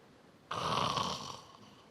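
A man imitates a snore with his voice, one drawn-out raspy inhaled snort lasting about a second, close and fairly loud, then fading.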